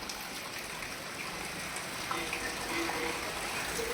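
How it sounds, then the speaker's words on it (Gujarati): Heavy rain pours steadily outside in a dense, even hiss of falling water, fairly soft and distant, with no voices. "તો જોયો તમે વરસાદ ફૂલ ચાલુ છે અહીંયા બાજુએ"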